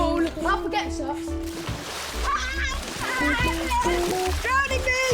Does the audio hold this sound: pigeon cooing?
no